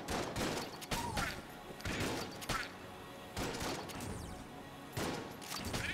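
Shotgun fire in the video game Enter the Gungeon, a run of sharp, heavy blasts repeating roughly every second amid dense in-game effects.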